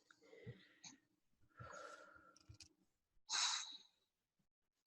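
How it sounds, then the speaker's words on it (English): A single deep breath taken during a guided tapping exercise, a near, breathy rush lasting under a second, preceded by a few soft, scattered vocal and breath sounds in an otherwise quiet room. "Take a big deep breath."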